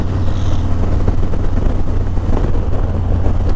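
A 2020 Harley-Davidson Low Rider S pulls up a slight hill, its deep steady engine rumble loud and close under heavy wind buffeting.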